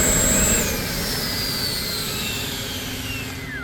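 An FMS BAE Hawk 80mm electric ducted-fan RC jet runs continuously, a loud, steady whooshing roar with a high whine whose pitch slides slowly, with no pauses and no talk.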